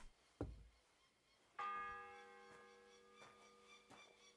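A church bell in the medieval video game Kingdom Come: Deliverance 2 strikes once with a loud, ringing tone that hangs and slowly fades, following a single dull knock, with faint thuds in the background.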